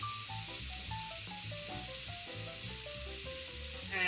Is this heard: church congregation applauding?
no